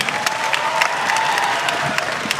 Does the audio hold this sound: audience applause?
yes